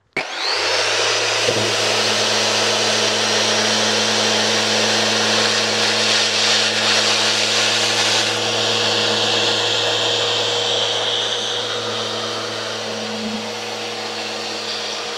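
A Festool ROTEX 90 sander working with coarse 80-grit paper gives a loud, steady whirring drone with a constant hum, running close and continuous without talk and easing slightly toward the end.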